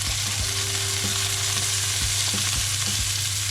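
A thin steak fries in a pan for a steak sandwich, giving a loud, constant close sizzle with a low hum and occasional soft knocks, no voices.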